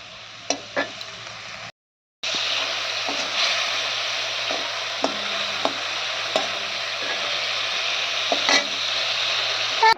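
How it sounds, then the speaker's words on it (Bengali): Pointed gourd and fish sizzling steadily in hot oil in a pan, a loud, continuous close fry broken briefly by a short silence, with occasional clinks and stirring knocks throughout. "তো পটলটা এর মধ্যে দিয়ে দিলাম, আর এর মধ্যে দিয়ে দেবো মাছটা, তো হয়ে যাবে পটল দিয়ে মাছ।"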